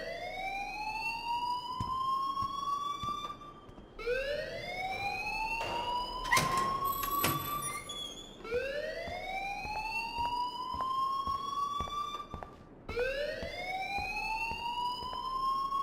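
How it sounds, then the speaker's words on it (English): A repeating alarm in the video game Life Is Strange sounds in long rising electronic sweeps, each wailing upward and cutting off before starting again, loud and steady with faint background noise. "please turn off that alarm since that's your job"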